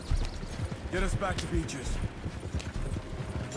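Horses gallop in the Western video game Red Dead Redemption, their hooves pounding out a steady clip-clop rhythm close by. A brief whinny cuts through partway, and someone talks over the hoofbeats.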